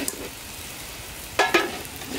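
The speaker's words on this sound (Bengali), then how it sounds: "এখন আমরা এই মশলাগুলো সব দিয়ে দেবো রসুন বাটা জিরে বাটা" Fried onions and garlic and cumin pastes go into a hot pan for a big wallago fish dish. Two short bursts of sizzling and stirring rise over a quiet background of low frying.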